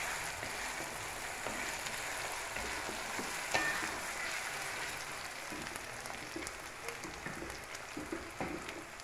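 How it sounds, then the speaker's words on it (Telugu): Onions fry in a pan for a potato fry dish, giving a soft, steady sizzle with faint stirring scrapes. It is quiet and continuous with no talk. "ఉల్లిపాయ బాగా ఫ్రై చేసుకోవాలి, బాగుంటుంది."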